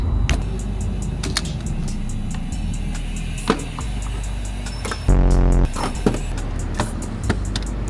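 A 2015 Chevrolet Corvette C7 Z06 with a manual gearbox cruising at night, a low steady engine drone with ticking clicks and cabin knocks, plus a brief louder throttle surge midway.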